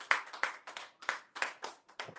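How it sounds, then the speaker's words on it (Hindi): Sparse, fairly quiet clapping from an audience at a ceremony honoring a double silver medal achiever, a handful of distinct hand claps in loose irregular bursts with short gaps between them. "एक बार जोरदार तालियां"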